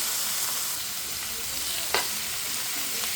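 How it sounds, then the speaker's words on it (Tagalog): Ground pork sautés in a pan with garlic and onion in oil and pepper, a close, steady sizzle with one sharp scrape of stirring partway through. "Ating igigisang mabuti ang giniling."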